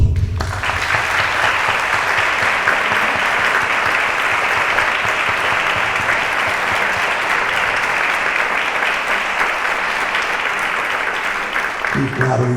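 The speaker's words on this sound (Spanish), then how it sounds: "Un aplauso." Conference audience applauding a gold medal presentation in a sustained, dense wash of clapping that holds for about twelve seconds before fading.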